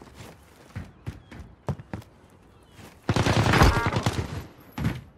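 Uzi submachine guns fire in a video game gunfight: a few sharp single shots and short bursts, then a dense, loud, sustained volley of rapid fire before tapering off.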